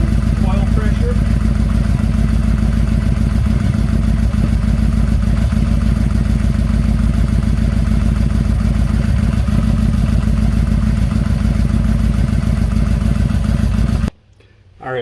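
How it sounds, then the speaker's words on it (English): An early Yamaha Royal Star motorcycle engine idles steadily and close by after an oil change, with a low constant rumble and mechanical clatter that runs for most of the time before cutting off abruptly near the end. "Alright, we've let the bike run for a few minutes, letting the oil drain back down into the case."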